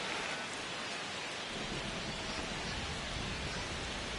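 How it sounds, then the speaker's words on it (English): Heavy rain pours down during a baseball game, a dense, even roar of rainfall that holds loud and constant with no talk. "This rain is not letting up."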